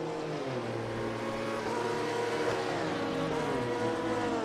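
A pack of GT3 race cars, among them McLaren, Audi, Porsche and Radical, runs together on the Daytona Road Course in a racing game, with engines droning and whining at steady, moderate volume and pitch slowly shifting as they run.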